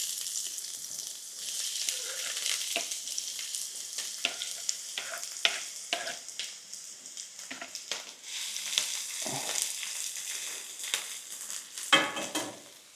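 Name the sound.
chopped onion frying in oil on woodstove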